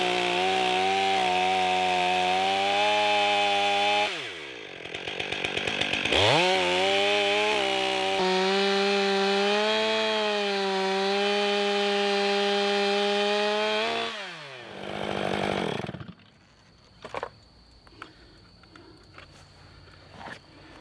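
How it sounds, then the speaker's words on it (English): Chainsaw cutting freehand across the top of an Osage orange (hedge) log: a loud close whine that drops and rises with load through a long cut, then idles and shuts off, followed by quiet wood handling. "I might try to take just a little off the top right here with the saw freehand before actually getting the mill out"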